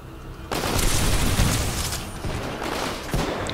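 Grenade blasts and heavy gunfire in the video game Titanfall 2, a loud sustained roar of explosions and shots kicking in abruptly and rumbling on for several seconds, with a couple of sharper bursts near the end.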